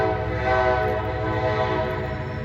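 A train sounds a sustained, loud horn close by at a rail crossing, with the steady drone of the rolling train underneath and no speech.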